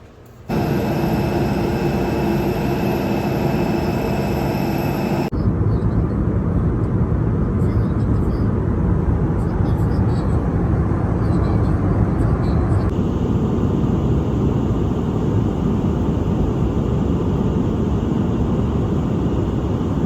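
Airplane engines at Jeddah airport, a loud steady roar that fills the whole stretch without pause, broad and rumbling and shifting in tone partway through.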